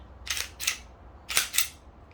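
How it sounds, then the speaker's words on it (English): A pistol slide is racked back and forth, giving four crisp metallic clacks in two quick pairs, close and loud against a quiet background. "That's how you rack a slide."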